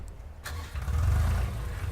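Tractor in a farming video game cranks and its engine catches, settling into a low, rumbling idle that grows louder and steady, close up.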